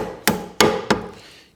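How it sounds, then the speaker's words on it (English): A hammer delivers three sharp, evenly spaced blows while knocking parts out of a Ransomes Parkway 3 Magna 250 cylinder cutting head during a strip-down, each strike ringing briefly and close, with no talk. "use the back of the hammer to do that and pull that one out"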